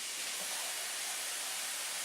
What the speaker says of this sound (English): I know you can hear the water running